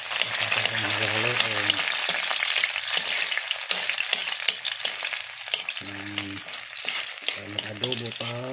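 String beans cooking as adobo sizzle steadily in a pan while being stirred, with scraping stir strokes over the constant frying hiss and a voice talking intermittently in the foreground.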